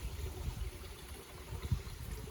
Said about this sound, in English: nice gurgly water noises is always very calming